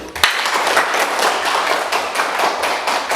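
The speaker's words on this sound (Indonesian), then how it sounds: "Kita beri tepuk tangan untuk kelompok 1." A class of students applauds a reporting discussion group in a school lesson, a dense, steady patter of many hands clapping at close range for about three seconds.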